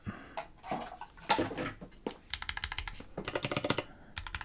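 Rapid typing on a numpad keyboard fitted with Gateron Pro brown switches, close and clear, with bursts of crisp clacking keystrokes and brief pauses between them, no talking.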